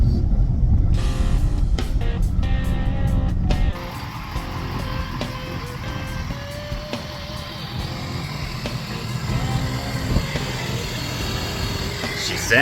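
A 2022 Ford F-250 pickup with a delete drives along, its engine and exhaust giving a loud, heavy rumble up close that shifts as it revs and settles to a steadier cruising drone, with someone talking over it.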